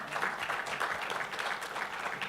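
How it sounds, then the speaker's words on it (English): A conference audience at a debt capital markets event applauds a panel, a fairly quiet, even patter of many hands clapping at a distance. "let's give the panel a round of applause."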